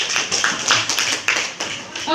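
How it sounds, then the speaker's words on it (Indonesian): Audience applause breaks out in an Indonesian school presentation on positive culture, a dense run of claps rising and falling in bursts while a voice talks over it. "Tepuk tangan dulu Bapak Ibu."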